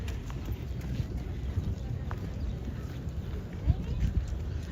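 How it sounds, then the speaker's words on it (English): Horse hooves clip-clop along a New York City street at a walking pace amid outdoor crowd noise and a low background hum. "Oh, goes clip clop, clip clop."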